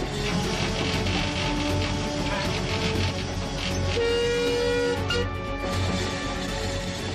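Train rumbling steadily with wheel clatter and sustained horn-like tonal blasts, a steam locomotive era train heard fairly close and continuous with no talking.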